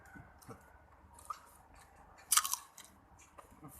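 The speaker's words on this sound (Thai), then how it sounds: "ข้ากินมะม่วง" Someone chews ripe mango flesh up close, with soft moist bites and one sharper crunchy burst midway, otherwise quiet and unhurried.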